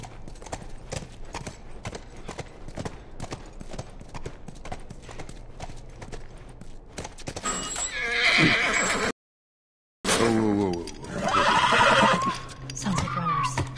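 In The Last of Us, a horse's hooves clip-clop in a quick regular rhythm for several seconds, then loud neighs and whinnies ring out twice, separated by a brief silent gap, with the horse close by.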